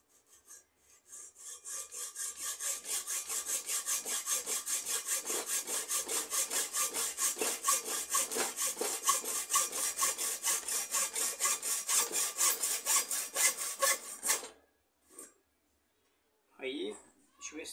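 Rapid back-and-forth sawing through a pipe while making ionic rods, a loud, close, rhythmic rasp of even strokes for about thirteen seconds, then it stops, with brief voices afterwards.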